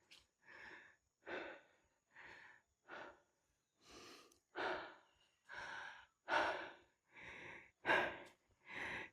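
Heavy, deep panting after a steep uphill hike on a hillside trail in San Pablo, Laguna, heard as about a dozen close, rhythmic breaths with short gaps between them and no talking.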